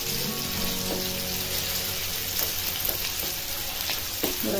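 Chopped onion sizzles and fries steadily in a pan for a Marathi-style potato bhaji, a continuous crackling hiss with a few soft stirring scrapes near the end.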